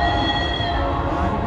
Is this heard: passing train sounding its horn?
yes